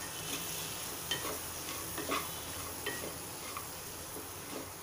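Cluster beans being mixed into spice masala in a pan over medium heat, a faint steady sizzle with a few light spoon scrapes spaced through it.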